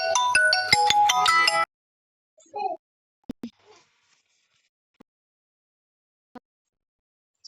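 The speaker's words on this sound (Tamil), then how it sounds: "ஃப்ரெண்டு மட்டும் ஃபோன் பண்ணுறான்." A phone ringtone plays a bright melodic tune for about a second and a half at the start of an incoming call, then stops, leaving a few faint clicks and brief sounds in a quiet room.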